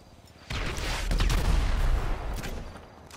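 An RPG grenade launcher fires in GTA V, starting with a sudden heavy blast followed by a rolling, rumbling boom and crackling debris that swells and then slowly fades over a few seconds.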